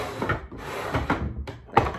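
A dorm storage drawer slides and knocks shut several times in close succession, with soft wooden bumps and rattles and a sharper clack near the end.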